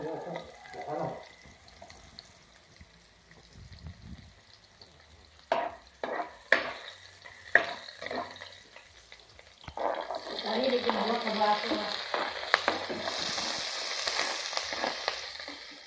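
Onion and ginger stirred while frying in a pan, a soft sizzle under scraping stirs, with a few clattering strokes midway and a louder, denser sizzle toward the end; voices murmur at times.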